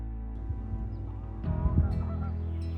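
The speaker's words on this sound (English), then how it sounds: "I can hear the Canada geese," Canada geese honking somewhere out of sight in open countryside, a few rough calls rising midway over steady low background noise.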